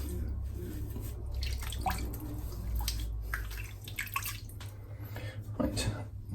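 Water splashes and drips close by in short bursts as it is splashed onto a man's neck before shaving, with faint movement sounds between them.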